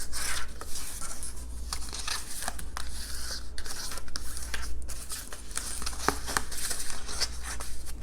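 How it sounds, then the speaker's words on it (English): Cardstock being folded and burnished for a suitcase-shaped box card gives a steady close rubbing and scraping, with brief crinkles and taps over continuous low hum; no speech. "So then, of course, fold and burnish."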